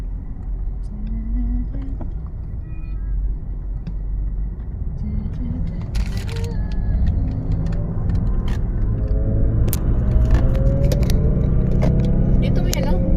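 A car driving through traffic in Doha, Qatar, heard from inside as a steady low road rumble and engine drone, with passengers chatting over it and a few small clinks and rattles.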